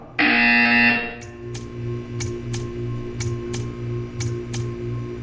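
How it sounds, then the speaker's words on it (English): Portal 2's art-therapy buzzer sounds first as a loud, sustained electronic drone, then gives way to a steady run of short rhythmic ticks and pulses over a low hum, evenly spaced and fairly prominent. "When you hear the buzzer, stare at the art."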